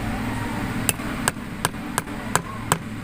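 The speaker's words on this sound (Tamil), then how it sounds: "இப்போ நம்ம சென்டரில் ஆணி அடிக்க போகிறோம்." A nail hammered into the center of a book being hand-bound, six sharp, evenly spaced hammer strikes ringing out close by against a steady low background hum, with no talking.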